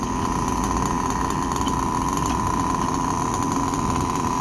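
A Kyosho Neo 3.0 nitro RC buggy engine runs steadily close by, a loud, constant high-pitched buzzing drone that holds without pause or change in pitch throughout.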